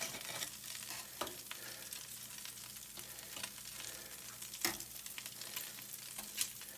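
Spinach omelette being flipped in a frying pan with bacon fat, a steady close sizzle and frying crackle throughout with a few soft scrapes and knocks of the turner against the pan.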